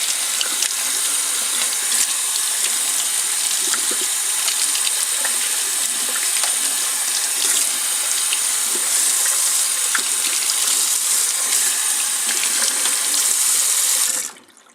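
Tap water gushes steadily into a sink while snow cone brackets are washed, a loud, continuous hissing splash that holds level before cutting off abruptly at the end.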